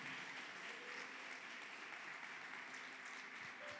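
A church congregation claps steadily in a dense, continuous wash of applause, heard from a distance in a reverberant room.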